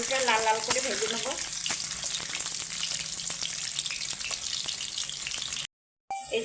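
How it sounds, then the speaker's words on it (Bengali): Potato pieces crackle in hot oil in a wok, a loud, steady sizzle with light stirring clicks and a brief voice near the start, then a short gap of silence before the frying resumes. "আলুটা লাল লাল করে ভেজে নেব।"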